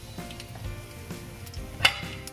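Mustard seeds and urad dal frying in hot olive oil while tempering spices for a pumpkin stir-fry, a soft steady sizzle with scattered ticks and one sharp pop near the end, close and without talk.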